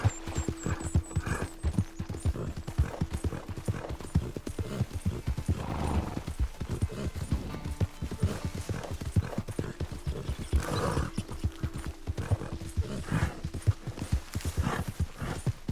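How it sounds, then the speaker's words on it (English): Horse hooves in Red Dead Redemption 2 clip-clop at a steady galloping rhythm throughout, close and loud, with an occasional neigh and a faint background hum. "Well done, Rochambeau, a beautiful, beautiful horse."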